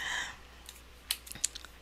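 A short burst of soft keyboard typing, a handful of light irregular key clicks after a brief hiss, close and quiet.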